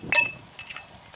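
Small old glass shards clink together while digging through an old dump pit, a sharp bright cluster of clinks followed by a softer second burst, alone without talk.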